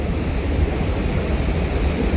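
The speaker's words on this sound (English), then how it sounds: "looking at a very full Arkansas River" The Arkansas River runs very full near flood stage at the North La Junta headgates in southeast Colorado, a constant loud rushing roar of water, close and steady, with some wind buffeting the microphone.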